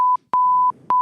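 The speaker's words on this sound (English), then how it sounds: "The button, beep." A button gives off electronic beeps, short pure tones repeating in a quick, uneven rhythm with brief silences between them, close and clear.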